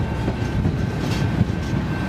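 ELS 502 freight train rolling through a road crossing, a close, steady rumble of railcars with a rhythmic clickety-clack of wheels and a faint high whine running underneath.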